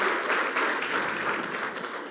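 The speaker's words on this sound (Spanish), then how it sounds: "Vamos, aplauda a Cristo." A church congregation applauding during a sermon, a steady wash of many hands clapping together at moderate distance, continuous and fairly even before easing slightly at the end.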